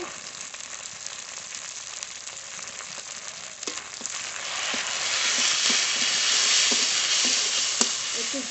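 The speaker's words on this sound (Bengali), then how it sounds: "জল দিয়ে ভালো করে মশলাটা কষিয়ে নেব" Spice paste fries in a pan with chopped tomato, turmeric and salt. A constant close sizzle grows louder partway through, punctuated by regular clicking scrapes of the stirring spoon, with no talking.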